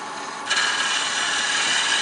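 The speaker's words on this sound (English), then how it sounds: "we're going to do our final cleanup with our spindle gouge. Just remove those" A spindle gouge cuts a wooden baby rattle spinning on a lathe, making a steady, close, hissing scrape that grows louder as the tool bites about halfway through.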